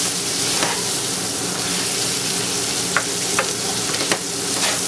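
Shrimp sautéing in a hot pan with Creole spice, a constant close sizzle and hiss with a few sharp stirring clicks, no talking.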